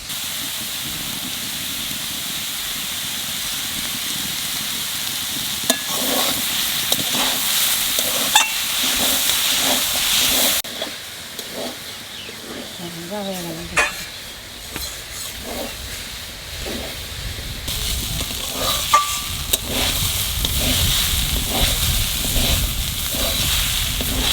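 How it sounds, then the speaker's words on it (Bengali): Banana stem fries in oil in a village-style kitchen: a continuous close hiss and sizzle runs the whole time, with intermittent stirring scrapes and small clacks, the hiss swelling louder toward the end. "থোড় প্রায় ভাজা হয়ে গেছে, তা অল্প একটু তেল দেবো।"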